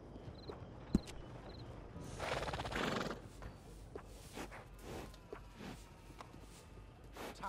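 A horse in Red Dead Redemption 2 whinnies faintly while soft hooves clip-clop at a distance, with a brief rustling swish and low ambient noise throughout.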